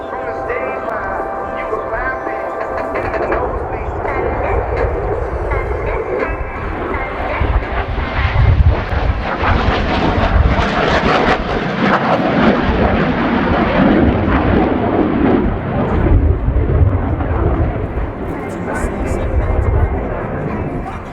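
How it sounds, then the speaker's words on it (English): An F-16 fighter jet roars loudly and steadily past during an air show four-point roll, a broad rumbling engine noise swelling and fading over about twenty seconds, with a commentator talking underneath. "In from the left, the F-16 and the 4-point roll."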